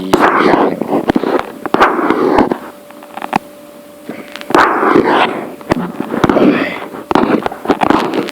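Fireworks burst outside during the Loy Krathong festival, a loud run of sharp cracks and pops coming in rapid irregular bursts, with a faint steady tone in the middle.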